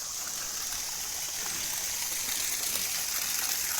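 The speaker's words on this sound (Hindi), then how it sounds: "ये देख रहे हो आप रास्ता, बिल्कुल सुंदर जल की धारा है" A cold mountain stream flowing along a trekking trail in the Garhwal Himalaya, a steady, dense hiss and rush of water that stays close and even throughout with no talking.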